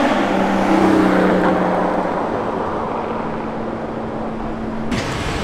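An Aston Martin sports car drives past at a Sunday supercar gathering in BGC, Philippines, its engine a loud, steady droning hum close by that cuts off abruptly near the end.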